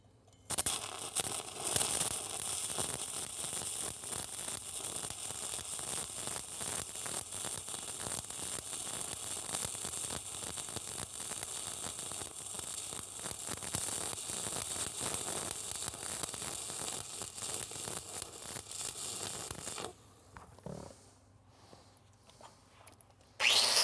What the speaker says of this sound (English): Now I'm going to proceed with welding